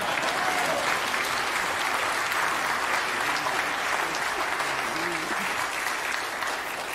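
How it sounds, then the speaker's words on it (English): Steady, dense applause from a sizable audience, sustained and even throughout with no pauses. "go ahead, we'll applaud this one time."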